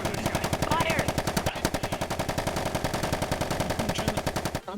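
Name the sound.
gunfire in a VR role-play game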